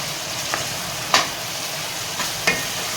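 Onions fry for a lauki chana dal, a soft continuous sizzle broken by a few distinct scraping stirs of the pan, one noticeably louder than the others.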